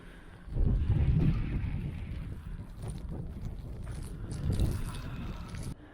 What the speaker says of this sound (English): This is actually a frozen lake. Again, sleet and wind.